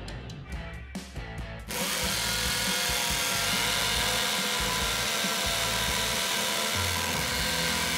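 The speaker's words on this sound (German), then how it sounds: "Zum Vergleich versuche ich das auch nochmal mit einer Schlagbohrmaschine." An impact drill (Schlagbohrmaschine) drills holes, starting with a few short bursts and then running continuously with a loud, steady hammering whine and no talking.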